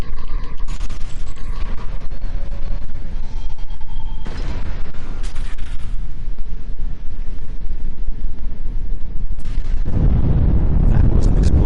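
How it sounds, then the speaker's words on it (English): In the video game Star Trek Online, a deep rumbling explosion bursts out near the end over a constant noisy ambient bed, loud and broad, with a few faint tonal sounds before it. "That was an explosion of sufficient magnitude to cause a breach."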